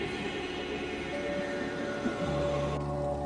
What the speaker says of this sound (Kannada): ನಮ್ಮನ್ನು ಕರ್ಕೊಂಡ್ ಬಂದಿದ್ ಮೆಟ್ರೋ ಇದೆ.